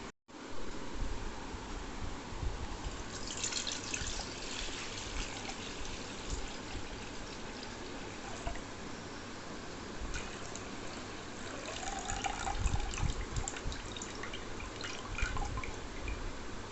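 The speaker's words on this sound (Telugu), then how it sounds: "బియ్యం కడిగాను." Tap water trickling and dripping steadily while rice is rinsed for a Telugu home lunch of rice and mango dal, a continuous close splashy flow that swells louder near the end.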